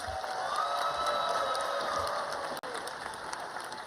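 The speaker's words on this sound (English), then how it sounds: "Let's give the K's a round of applause" An audience applauds steadily at a medical school white coat ceremony, a dense, even wash of clapping heard at moderate distance with no voices over it.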